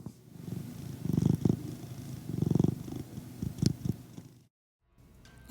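A pet cat purring up close, a low rumbling purr that swells and fades in waves with a few soft thumps, then a brief silence and a sharp knock at the end.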